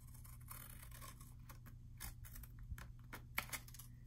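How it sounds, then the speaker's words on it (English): Scissors snip through a paper tab on a memory envelope punch craft card, giving a few quiet, close, short cuts over a low steady hum. "So we're gonna go ahead and snip this"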